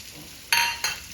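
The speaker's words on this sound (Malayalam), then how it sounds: "ഇതൊക്കെ ഒന്ന് നന്നായിട്ടൊന്ന് വഴറ്റട്ടെ" Garlic, ginger, green chillies and cashews sautéing in a hot pan, a low steady sizzle broken by two short bursts of louder spattering as the pieces are stirred.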